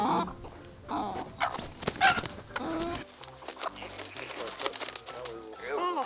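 Backyard frizzled chickens clucking and softly vocalizing in short bursts, with a person talking over them for much of the time.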